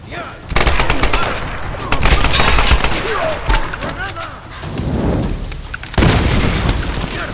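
Rapid bursts of video game gunfire crackle and boom in dense volleys, with brief pauses between salvos and a voice faintly mixed in.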